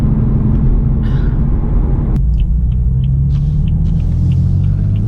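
A BMW M4 with a Dinan Stage 2 tune rolls on the throttle in second gear, giving a loud, deep engine rumble that holds steady and continuous throughout, with no talking.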